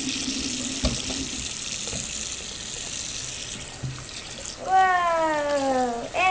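A tap runs steadily in the Webkinz video game, a soft continuous water hiss, then a rising cartoonish sound effect near the end, with faint game noises in between.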